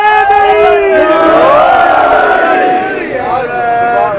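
A large crowd at a religious gathering chants slogans in unison, loud, with sliding, overlapping voices that rise and fall together for several seconds, filling the space with no single speaker standing out.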